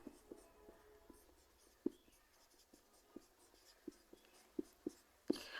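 Pen or chalk writing out a maths solution, faint scratchy strokes punctuated by a dozen sharp taps as figures are dotted and finished, close and quiet with no speech.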